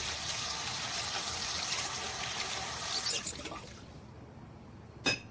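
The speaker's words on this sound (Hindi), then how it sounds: "अरे पानी बंद कर दो यार, बस 3 गिलास ही तो धोने हैं, कितना पानी वेस्ट करते हो तुम।" Running tap water splashes steadily while glasses are washed in a home setting, a continuous rushing wash that cuts off partway through, followed by a brief sharp glass clink near the end.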